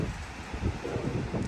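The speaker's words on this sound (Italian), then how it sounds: "Si capisce la forza del vento dai video" Constant gusting wind rushes and rumbles against the microphone, a dense, unbroken noise throughout.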